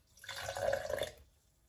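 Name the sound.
very hot tap water poured onto flour for sourdough starter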